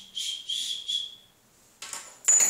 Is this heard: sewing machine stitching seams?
no